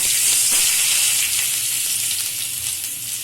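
Steady, bright sizzling of hot oil in a kadai, a continuous hiss with no talking.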